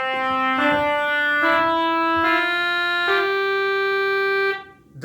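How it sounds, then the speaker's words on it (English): Pipe organ trumpet stops sound loud and brassy, a sequence of about four sustained reed chords moving in steady steps before cutting off, with no voices. "those are the trumpet stops that you heard just there."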